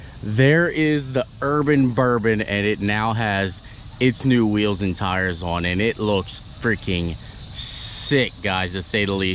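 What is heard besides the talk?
cicadas buzzing outdoors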